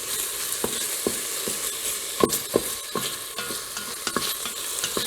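Southern green beans sizzle in a Fissler pan while a utensil stirs them, giving a constant frying hiss broken by irregular scraping and knocking strokes close at hand, with no speech.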